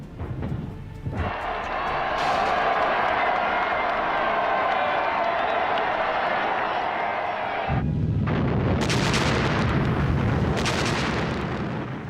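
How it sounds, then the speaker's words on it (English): Artillery salvos fired in Moscow's Red Square to celebrate Red Army victories in 1943, heard as a sustained loud roar of blasts and crowd noise, with a deeper rumbling burst in the later seconds. "Stalin ordered 12 124-gun salvos and a barrage of fireworks in Moscow's Red Square"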